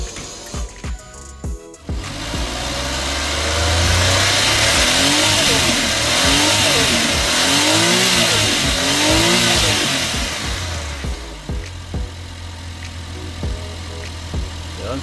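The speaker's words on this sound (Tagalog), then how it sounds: "I-check lang muna natin yung engine." A Suzuki Every DA64W turbo van engine idles, then revs up loudly several times in rising and falling surges before settling back to a rumbling idle, close by.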